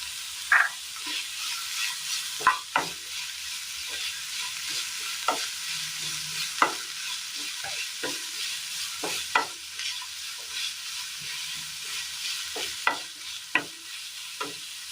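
Ginger, garlic and curry leaves frying in oil in a pan, a steady bright sizzle broken by repeated scraping clinks of a spoon stirring, close and without voices.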